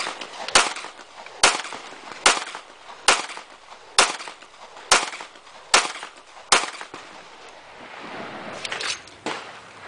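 Nine sharp shots from a Browning 9mm semi-automatic pistol of the Irish Army, fired at an even steady pace, each loud crack dying off quickly, with a softer rustle after the last shot.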